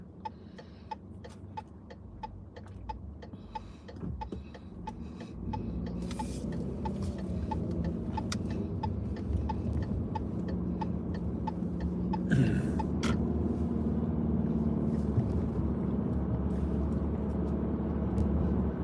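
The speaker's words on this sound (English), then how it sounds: "there's always more cars going this way because they're going into work" Cars pass on a road with more traffic heading one way toward work, a steady broad rumble of engines and tyres that swells partway through, with faint repeated ticking in the background and no talk.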